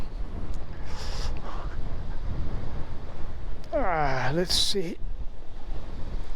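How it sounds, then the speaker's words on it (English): Wind gusts over an open cliff area along the Transamerica Trail, a steady rushing buffet on the microphone throughout, with a brief spoken comment partway through. "I think if I get away from this open cliff area here, I think the wind might hopefully die down"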